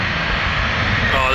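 A jet airliner's engines roar loudly and continuously nearby at a busy airport, a broad, rushing drone that swells slightly toward the end.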